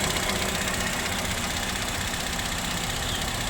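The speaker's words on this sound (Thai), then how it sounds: "เสียงเครื่องนิ่มๆเลยครับ ไม่ไอไม่พุ่งครับทุกคน เสียงเครื่องนิ่มครับ" An automatic Honda City idles with a steady, even engine hum and no stumbles or surges, heard up close and alone.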